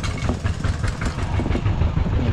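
A pair of farm tractors runs nearby with a steady, rumbling low engine drone that holds at an even level throughout and has no speech over it.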